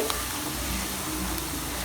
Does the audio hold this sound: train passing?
no